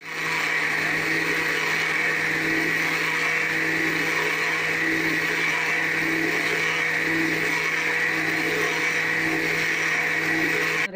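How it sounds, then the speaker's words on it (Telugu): A mixer grinder runs continuously, grinding ridge gourd chutney with a loud, steady motor whine and churning that holds unbroken for the full stretch. "నెక్స్ట్ గ్రైండ్ చేసుకుందామా?"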